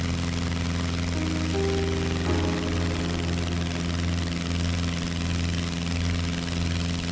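A 1965 Champion Citabria light aircraft droning steadily on departure from Fairfield County Airport in Winnsboro, South Carolina, with a loud, constant engine and propeller hum heard up close throughout, no voices.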